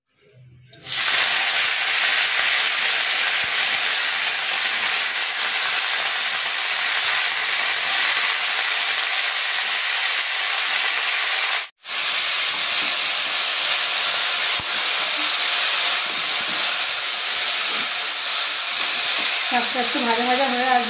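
Black cumin seeds and dried red chillies sizzle in hot oil in a home kitchen, a loud, steady, close hiss that carries on for about twenty seconds with one brief break partway through.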